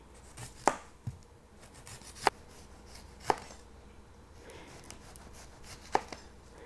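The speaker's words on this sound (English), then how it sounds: "Now what I like to do to slice my onions, I cut slices and then I go almost to the end" A Rada cutlery knife slices through a red onion on a board, giving five sharp, separate cutting thuds at uneven intervals, with soft rubbing and scraping between them, close and otherwise quiet.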